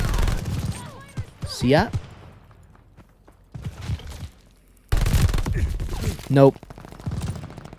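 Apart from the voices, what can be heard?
gunfire in Call of Duty video game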